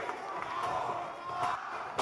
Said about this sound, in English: Crowd cheering on Cal Hero with each punch here.